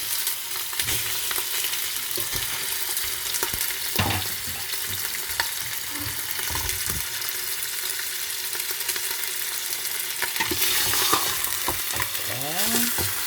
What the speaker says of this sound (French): Je vais les faire revenir un tout petit peu pour que ça dore.